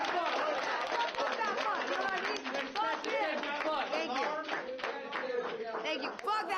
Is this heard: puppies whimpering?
no